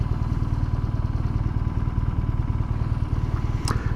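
A BMW R nineT Urban GS air-cooled motorcycle engine idles steadily, its fast regular low pulsing loud and close throughout, with a brief higher sound near the end.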